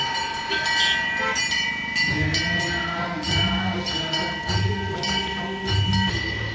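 A metro train running near Raisan metro station beside a temple, a loud, continuous rumble with rhythmic rail clatter and squealing wheel tones, heard close up.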